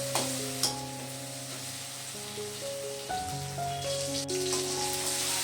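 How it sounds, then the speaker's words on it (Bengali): Chopped tomato sizzles steadily in hot oil as it is stirred and fried for a few minutes while making moong dal with fish head, a close, continuous crackle with a faint tonal hum running underneath. "টমেটোটাকে নেড়ে চেড়ে নিয়ে 3-4 মিনিটের জন্য ভেজে নেব"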